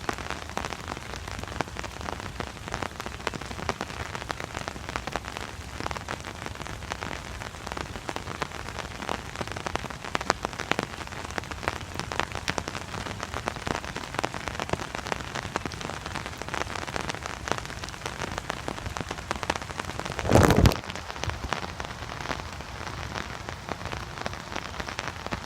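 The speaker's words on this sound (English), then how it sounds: "But yeah, just chilling out under the umbrella, enjoying the rain." Steady rain patters on an umbrella beside a tidal marsh river at low tide, a dense even hiss of drops throughout with one brief louder knock partway through.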